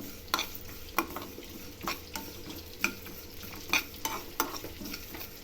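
Whole star anise and cardamom dry-roasting in a pan, quiet sizzling with a spoon scraping and stirring in sharp periodic strokes roughly every second, close and without talk.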